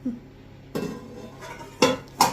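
Metal cooking pots clank as they are stacked one on top of another in a home kitchen, giving three separate close knocks with quiet gaps between them.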